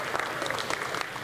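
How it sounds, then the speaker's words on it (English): Audience at a school board meeting applauding reading fair winners, a short burst of steady clapping from a roomful of people, moderately quiet and continuous. "A big round of applause again for all our winners for our reading fair."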